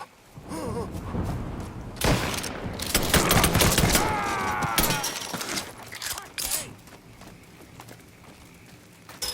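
Shotgun gunfire in the video game Mafia III on PS5, with a rapid fusillade of loud booming blasts, shattering impacts and chaotic combat noise, then a few sparser shots.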